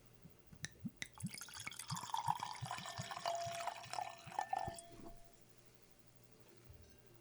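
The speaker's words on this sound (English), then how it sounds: "So should we pour it and get it in the glass?" Yamaguchi sake being poured from a bottle into a glass, a soft, quiet trickling stream lasting a few seconds with faint clinks, then tapering to silence.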